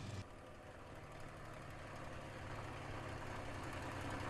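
A P-51 Mustang piston engine runs throttled back at reduced power, a steady, even low drone and throb with a faint rise near the end, heard alone.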